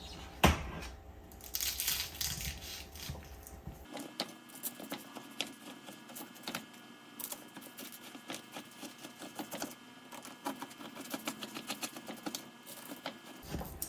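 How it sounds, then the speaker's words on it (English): A knife cuts through a tray of syrupy baklava on the diagonal, producing quiet, close crackles and crisp crunches of flaky pastry layers, with a soft patter of small clicks throughout. "we're going to go in and cut it the opposite way diagonally"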